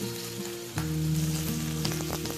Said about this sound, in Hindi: दूसरी जानिब यहाँ मेरे पास फ्राई हो रही है भिंडी